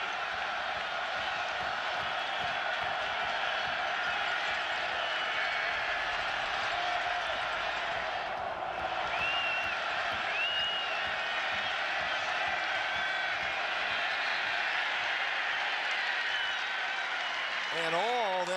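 A stadium crowd at a college football game, South Florida Bulls against Connecticut Huskies, keeps up a loud, continuous roar throughout, with a commentator talking over it.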